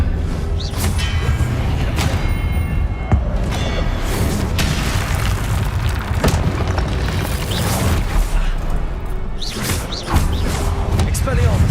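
Confringo fire spells burst repeatedly in the Hogwarts Legacy video game, dense loud booming blasts and crackling impacts layered over continuous game noise, with a voice talking throughout.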